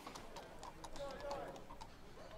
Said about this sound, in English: Well, then I guess your carriage awaits.